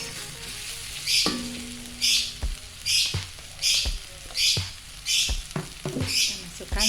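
Pounded oncom with spices and cassava peel is stir-fried until dry, a low sizzle broken by rhythmic scraping strokes of a spatula against the pan, close up, with a brief soft voice.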